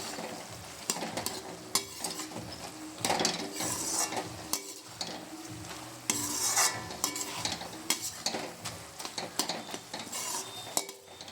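A bottle gourd peel dish thickened with rice flour being stirred in a pan, with busy clattering utensil scrapes and knocks over a steady sizzle, close and continuous with no voices.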